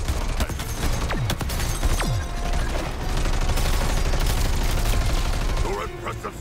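Gunfire and weapon blasts from Suicide Squad: Kill the Justice League form a dense, continuous barrage of shots and impacts, with bursts layered over heavy combat noise and background action sounds throughout.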